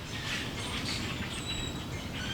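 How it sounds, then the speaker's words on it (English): Soft bird chirps and twitters come from a distance over a quiet outdoor background, with no talking. "listen to the birds at my mom's house."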